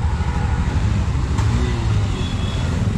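A car passes on a road at a village on the India–Myanmar border in Moreh, Manipur, its steady low engine and road rumble filling the moment, fairly loud and close, with no talking.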